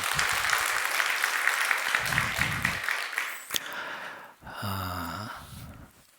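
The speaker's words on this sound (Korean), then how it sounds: "다시 한번 감사하며 소리 박수 한번 하시겠습니다" At a Wednesday worship service, a church congregation breaks into a short round of applause that thins out after a couple of seconds, followed by scattered noises and a brief voiced sound.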